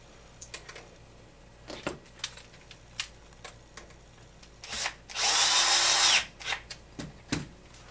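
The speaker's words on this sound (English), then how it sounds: "take the flanged nut and we're going to put it on the back and tighten it up" A power multi-tool tightens a flanged nut on the rear of an HPI Baja SS RC car, giving a close, loud whirring burst of about a second amid scattered small clicks and handling taps.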